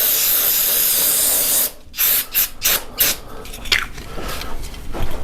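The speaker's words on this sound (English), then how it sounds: "I'm going to hit it with a little bit of brake cleaner just to clean them off" Brake cleaner sprayed onto carriage bolt heads in a garage before powder coating: one long loud aerosol hiss, then several short bursts, then quieter handling noise.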